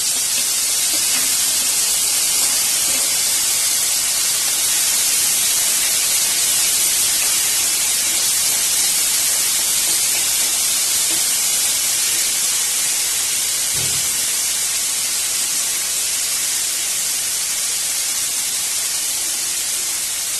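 Tomatoes go into a hot pan for a potato and rajma dal curry, giving a steady, loud, broadband sizzling hiss that runs unbroken throughout with no talking.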